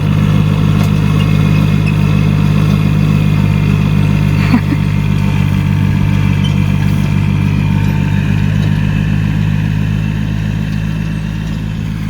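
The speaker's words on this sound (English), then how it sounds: "With our new to us tractor." A steady tractor engine idles and chugs close by on abandoned land, a constant low rumble with a rhythmic throb that holds without change, easing slightly at the end.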